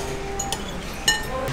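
A spoon clinks lightly against a dish twice, bright and brief, over a low restaurant murmur at a Balinese fish eatery.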